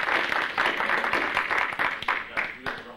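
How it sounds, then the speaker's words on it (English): A small audience claps for a presenter after a local history talk, a short burst of applause that tapers off, with voices speaking over the end. "I think we owe him a nice round of applause"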